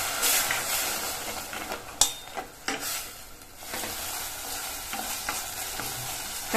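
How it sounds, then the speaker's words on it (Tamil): Ground tomato paste with ginger garlic paste sautéing in a pan for chapathi kurma, a constant close sizzle and hiss with a few sharp spoon clinks and stirring scrapes. "இதை சேர்த்துட்டு இதனுடைய பச்சை வாசனை போக வதக்கிக்கங்க."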